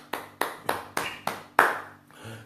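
A church congregation clapping loudly in praise of the Lord, six sharp, evenly spaced claps in a steady rhythm, the last ones fading into a softer shuffle.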